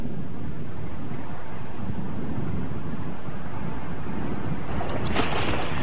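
Ship Siegen under way at sea, carrying nuclear fuel transport containers: a steady, loud low rumble of engine and water with wind noise, continuous and unbroken, no voices.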